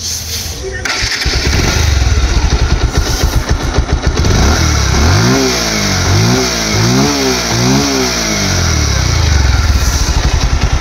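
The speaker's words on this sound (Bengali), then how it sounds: "এখন গাড়িটা স্টার্ট করে সাউন্ড কন্ডিশন দেখাবো।" A Bajaj Pulsar 150 single-disc motorcycle starts up and settles into a steady idle, then gets four quick rising throttle revs in a row before dropping back to idle, loud and close.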